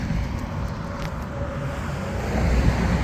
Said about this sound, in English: the cars are kind of loud